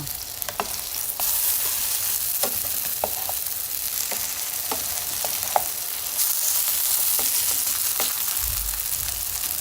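Jeon, a Korean savory pancake, fries in an oiled pan with a steady broadband sizzle and scattered sharp crackles and pops, close and continuous throughout, with no voices.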